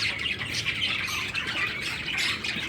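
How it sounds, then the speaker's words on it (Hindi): Flock of pet parrots squawking continuously in a garden on a rainy, cloudy day, a dense, harsh chorus of overlapping calls from close by with no talking. "कैसे लगे आपको मेरे तोते?"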